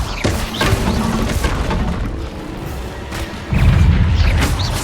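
A Bombarda blasting spell bursts in Hogwarts Legacy, a heavy booming explosion with a loud rumbling surge near the end amid busy game noise.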